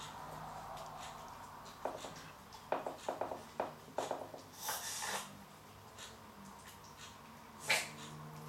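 Dogs eat from a bowl with soft irregular snorts, sniffs and lapping sounds, near and quiet, the noises coming in short bursts with pauses between.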